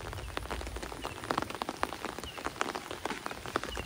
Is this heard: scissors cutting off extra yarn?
no